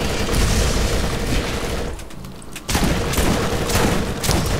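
Loud shotgun blasts and explosive booms from the video game Borderlands, a continuous barrage that briefly drops away before resuming at full force.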